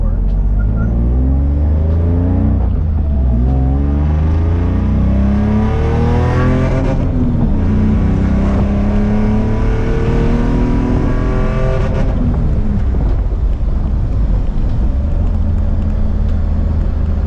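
A drift car engine with newly installed cheap headers revs up and down repeatedly, loud and close, its pitch sweeping higher with each throttle blip before settling back.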